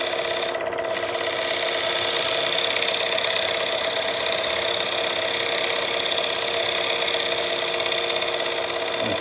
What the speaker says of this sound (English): I'm going to try a shear scrape with the gouge.